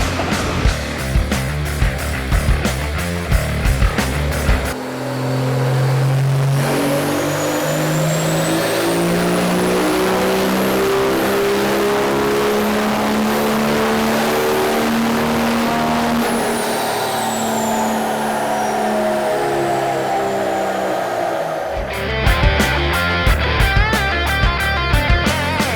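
A diesel truck on a dyno at a diesel power competition roars through a long, loud, sustained full-throttle pull as the pitch climbs steadily, then drops back to a rough, rattling idle.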